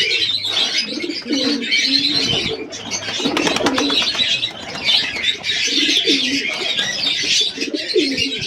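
Pigeons coo repeatedly in a home loft during feeding time, soft rolling calls recurring close by alongside chirps and a steady bird chatter, with faint wing flutters.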